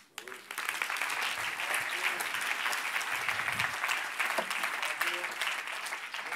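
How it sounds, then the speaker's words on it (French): Audience applause at a French conference on businesses contributing to ecosystem regeneration, a dense sustained clapping that swells quickly after a quiet start and holds steady for about six seconds. "Je crois que vous pouvez encore l'applaudir un petit peu."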